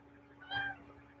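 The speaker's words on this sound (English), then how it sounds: "cat." A house cat gives a single short meow at moderate loudness, close by, with no talking over it.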